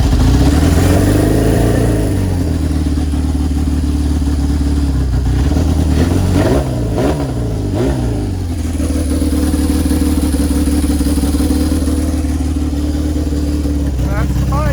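A 1976 Honda CB750 motorcycle engine cranks, catches and settles into a steady, loud running idle with a brief revving surge midway, close by, with a voice talking over it.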